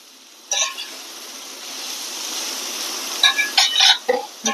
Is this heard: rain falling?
no